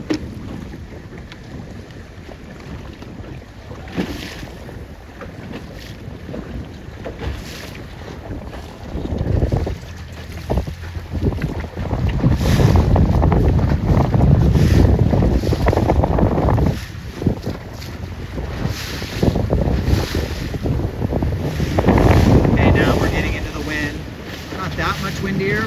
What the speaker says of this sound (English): It's lighter now with more breeze